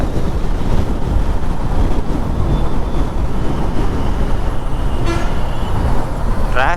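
Loud, dense road traffic in Bangalore rumbles around with wind buffeting the microphone, and short car horn toots sound near the end.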